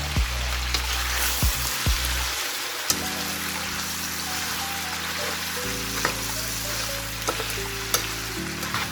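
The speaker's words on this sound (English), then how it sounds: "Cook your onion and garlic until light golden brown. Add your deep fried beef, the pan." Deep-fried beef sizzles in a pan with onion and garlic, a steady close frying hiss with occasional sharp clicks and stirring scrapes, no talking.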